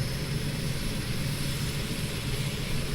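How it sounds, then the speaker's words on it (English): A Milviz PC-6 Porter propeller aircraft engine in Microsoft Flight Simulator 2020 drones steadily with a low throbbing hum and broad roar, continuous and close, without speech. "Yes, Jeremy, good startup sounds."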